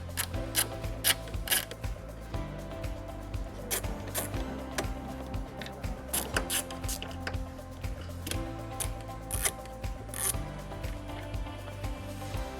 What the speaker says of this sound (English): Using an 8mm socket, we're going to remove 2 screws that are located at the tail lights.